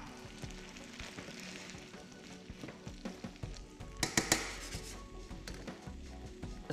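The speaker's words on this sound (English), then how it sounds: "I got some sliced onions, which I'm going to add now." Sliced onions go into a hot pan for a chickpea, spinach and mango salad, making a faint, soft sizzle with scattered light clicks and a brief cluster of sharper taps.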